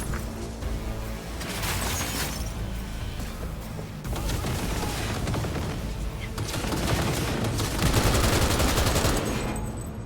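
Gunfire in the video game Cyberpunk 2077, with dense, sustained automatic bursts and overlapping shots filling the whole stretch, loud and close, with brief dips between volleys.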